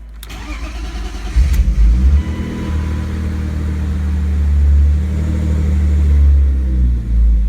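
A BMW E36 M3 engine catches after a brief crank and settles into a loud, steady idle with a deep low rumble, close by, with a slight swell in the revs near the end.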